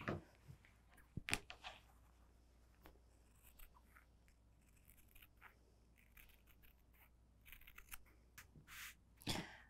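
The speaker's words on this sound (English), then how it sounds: "I'm gonna do this with some scissors." Scissors cutting quilted fabric for a Christmas boot stocking, giving soft, close snips and scrapes at irregular intervals, with louder crisp cuts near the start and end and quiet room sound between them.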